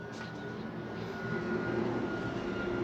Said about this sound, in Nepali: थोरै प्लेन आइरहेको छ